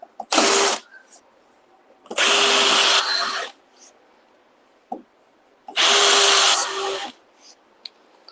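A power drill countersinks screw holes in plexiglass in three separate high-pitched whirring bursts, close and loud, with short quiet gaps between them.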